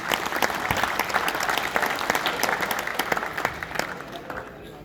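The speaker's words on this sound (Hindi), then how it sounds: "इनके लिए तालियां बजा दें" Audience applause at an Urdu poetry mushaira in Dubai, a dense wash of many hands clapping with scattered sharper claps, crowd murmur and voices mixed in, fading toward the end.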